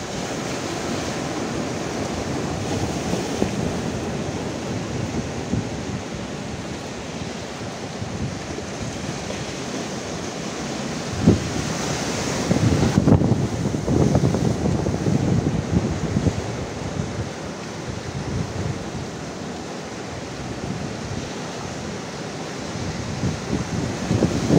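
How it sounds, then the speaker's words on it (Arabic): Strong wind and breaking sea waves at the shore in Tangier during a fishing outing, a steady broad roar with gusty swells that rise louder midway, heavy wind buffeting on the microphone throughout, no voices. "دابا الريح كيشاق اخوان تحرك الريح بزاف وبحار حتى هو كيشقلب مواج طلعوا شويه"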